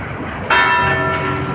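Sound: church bell ringing at Igreja Matriz Santana

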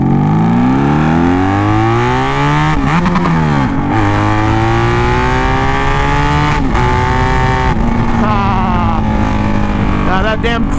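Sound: vehicle engine revving with clutch

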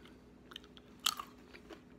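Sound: chewing crunchy smoked almonds

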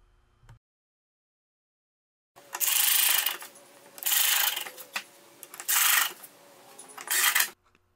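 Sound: screws driven into wood

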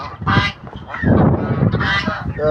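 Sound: Indian runner ducks quacking

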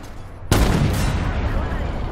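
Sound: gunshots in video game SpecOps

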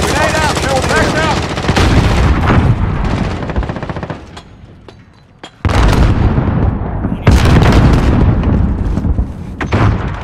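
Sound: grenade explosion and gunfire in Modern Warfare video game

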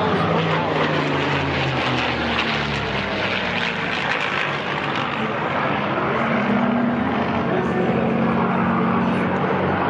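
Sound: P-51 fighter plane propeller engine flying at an airshow

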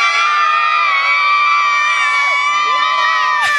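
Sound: crowd cheering and screaming at stadium in Durban

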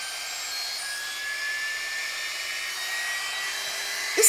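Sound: hair styling tool blowing, Dyson alternative

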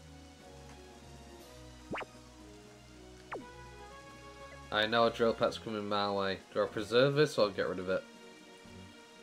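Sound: rain weather in video game Pokemon Stadium 2

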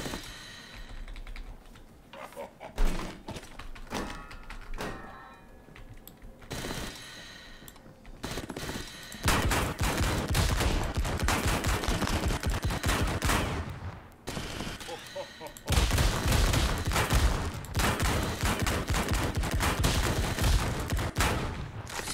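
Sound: shotgun firing in a video game

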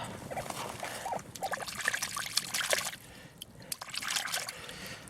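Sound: water poured to rinse a Soviet 3-kopeck coin

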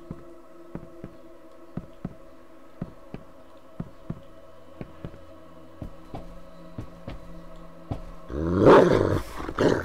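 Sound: dog growling in video game Layers of Fear

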